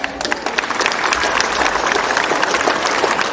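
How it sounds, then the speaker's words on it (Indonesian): Children at a school Santri Day assembly clapping: loud, dense, sustained applause from a crowd, close and steady throughout. "Maka anak-anak kasih aplaus yang jauh lebih meriah"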